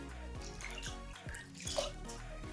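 Soaked dried pollack squeezed by hand over a bowl, with water dripping and trickling out in a run of small splashes, close and faint, no talk.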